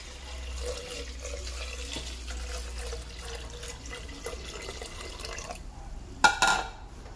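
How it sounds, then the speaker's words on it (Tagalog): Coconut milk poured into glutinous rice, a steady close liquid flow with a few drips and a brief clatter near the end. "Ilagay na natin ang ating gata."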